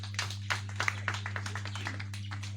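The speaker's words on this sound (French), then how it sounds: "Applaudissez." Scattered, uneven hand claps from a modest audience at a gathering of the Ekang community. The claps rise and fade in loose bursts over a steady low electrical hum, with no clear voices on top.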